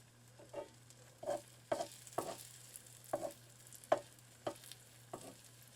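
An egg frying in the corner of an electric skillet, a faint steady sizzle under a low hum, broken by soft irregular pops and crackles every half second or so.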